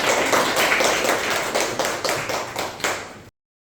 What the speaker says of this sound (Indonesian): Betul, bagus sekali, tepuk tangan.